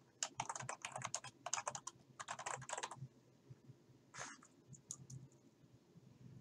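Fast bursts of typing on a computer keyboard while entering text into a Word document, quick clustered key clicks, a pause, then a few scattered taps, close and fairly quiet, no talking.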